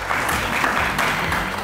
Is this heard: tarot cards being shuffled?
no